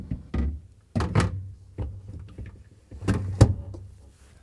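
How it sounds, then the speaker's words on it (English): Shelves are fitted back into a Samsung refrigerator, giving several separate close thunks and knocks with short scrapes between them, spaced irregularly, no voices. "And let's put the shelves back in."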